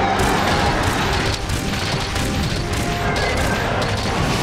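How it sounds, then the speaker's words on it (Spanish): A heavy bowgun fires piercing shots in the video game Monster Hunter Rise, heard as dense, loud crashing impacts and booms that layer continuously, with no speech over them. "vamos a ponerle el disparo perforante un poquito"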